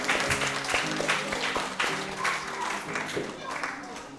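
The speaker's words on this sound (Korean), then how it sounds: "하나님 앞에 영광의 박수를 드리겠습니다." A church congregation claps during a Christmas worship service, a broad wash of applause with sustained musical tones and voices underneath, steady and fairly close.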